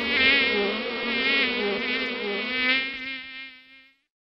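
A bee buzzes in a close, continuous, reedy drone that holds steady for about three seconds, then fades away.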